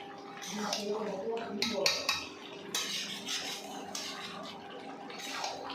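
Spiced young jackfruit stirred in a metal pan, with a spoon scraping and clinking against the pan in a steady run of close scrapes and taps, a faint voice talking in the background.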